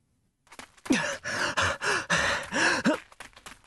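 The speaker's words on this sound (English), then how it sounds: "More panting aoba noises" Heavy, rapid panting breaths of a running character in the video game DRAMAtical Murder come in a quick rhythm of voiced gasps and exhales, close and fairly loud, after a brief silence.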